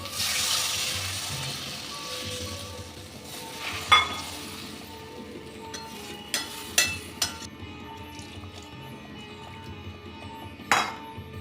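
Katla fish for a Bengali kalia going into hot oil with curd-based masala, a soft sizzle at first followed by scattered clinks and scraping stirs, close and moderate with no talking.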